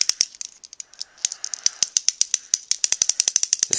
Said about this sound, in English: Just keep winding it until you hear a nice big click, like that.